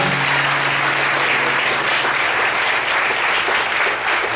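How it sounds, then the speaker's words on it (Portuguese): Steady, dense clapping from a church congregation fills the space, loud and continuous without pause, with a faint low hum underneath. "Você pode desocupar sua mão e aplaudir o Senhor?"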